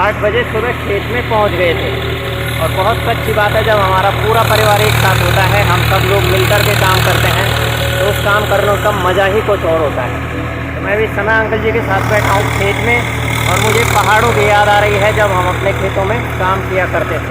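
A tractor engine runs steadily in a rice paddy field, a loud continuous low chugging drone that persists throughout while someone talks over it at length.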